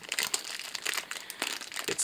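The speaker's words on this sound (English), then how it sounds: "I guess I'll take this plastic off." Continuous crinkling and rustling of plastic wrap being removed while unboxing a Samson C03U microphone, with sharper crackles scattered through, moderately quiet and close.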